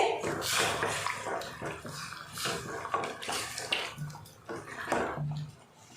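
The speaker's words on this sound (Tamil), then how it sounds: "இப்போ கொஞ்சமாக தண்ணி சேர்த்துக்கலாம்." Water splashes and pours in short bursts into a pot of cooking chicken curry, with faint clatter and a brief hiss, moderately close.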